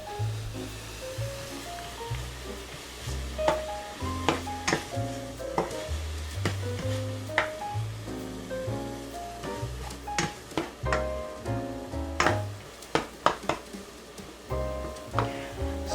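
Food sautéing in a pan for Alfredo pasta, a steady sizzling hiss with repeated scrapes and knocks of a utensil stirring, close and continuous, no voices.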